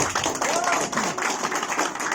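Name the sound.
audience clapping hands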